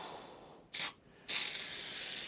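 An aerosol can of spray adhesive hisses onto a car headliner for a Jaguar XJC restoration, a short burst, a brief pause, then a longer steady spray, close and alone.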